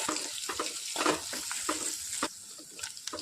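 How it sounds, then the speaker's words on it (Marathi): Cluster bean curry stirred in a pan with chili powder and coriander, a soft sizzle beneath intermittent scraping and clinking strokes of the spoon against the pan, close and quiet. "तिखट टाकते अर्धा चमचा, सोबत कोथिंबीर मिक्स करून घेऊया"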